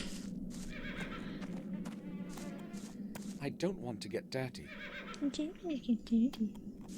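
Horses neigh and whinny repeatedly in a video game, sharp rising calls with some clip-clop hooves, heard under and between a person talking.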